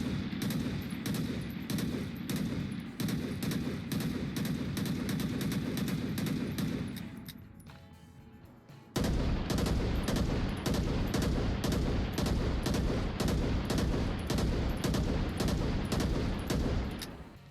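Sustained automatic gunfire from the VR shooter Onward, with rapid repeated shots in dense bursts, a brief lull near the middle, then loud continuous firing resuming to the end.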